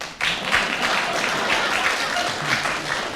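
Studio audience clapping on a comedy panel game, a steady burst of applause starting abruptly and holding at moderate loudness for a few seconds without talk.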